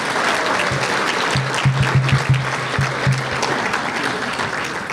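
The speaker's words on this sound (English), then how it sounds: "How about a round of applause for the next generation?" Crowd at a junior dragster awards ceremony at a raceway applauds steadily for several seconds, a dense wash of clapping with a low rhythmic hum running underneath.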